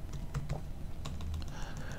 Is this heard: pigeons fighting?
no